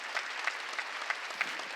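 Worship-service congregation claps in quiet, rhythmic unison, a short run of soft, evenly spaced claps coming roughly three times a second.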